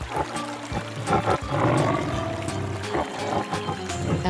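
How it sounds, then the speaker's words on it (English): A tiger roars in a low, rumbling rush that swells and holds, loud and close, with some splashing, watery texture mixed in. "Tiger."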